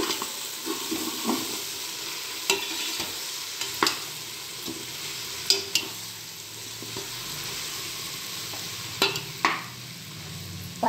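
Vegetables and tempered spices frying in a pan, a soft continuous sizzle broken by repeated sharp clicks and scrapes of a spoon stirring against the metal, with no talking.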